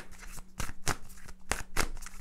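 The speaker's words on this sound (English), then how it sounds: "I'm just going to shuffle these oracle cards" Oracle cards being shuffled by hand, a close series of quick papery riffles and soft slaps that repeat in uneven bursts.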